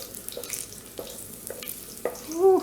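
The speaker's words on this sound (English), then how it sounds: "saute this a bit, just till that garlic gets a little bit brown" Garlic sautéing in olive oil in a pan, a faint, soft sizzle with a few light clicks and scrapes, fairly close and without talking.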